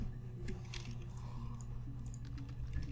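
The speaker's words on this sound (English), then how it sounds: "You can hear the typing sounds." Keyboard typing from the PC mystery game Her Story: a steady run of soft, close key clicks over a constant low hum, with no talking.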